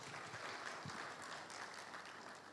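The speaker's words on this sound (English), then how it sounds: "we can give him a round of applause," A conference audience at a panel session claps steadily, a dense, even wash of applause held at a constant level throughout.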